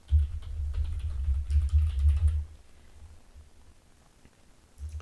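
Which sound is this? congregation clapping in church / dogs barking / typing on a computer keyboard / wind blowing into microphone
typing on a computer keyboard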